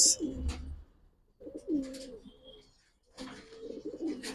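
Silver Giribaz pigeons coo in three low, throaty bursts separated by short pauses, close by and fairly clear, with a faint background hum.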